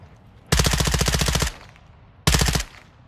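Two loud bursts of automatic gunfire from a Call of Duty DMZ match, a rapid stream of shots lasting about a second, a short pause, then a second briefer burst, close and dominant.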